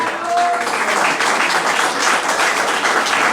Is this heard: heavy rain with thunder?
no